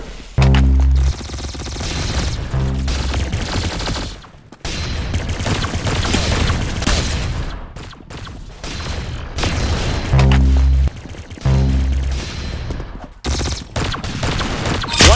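Gunfire in the Roblox Arsenal video game: loud bursts of rapid shots packed close together, broken by brief gaps and punctuated by heavy thumping booms, continuous and dense over the game's backdrop with no speech.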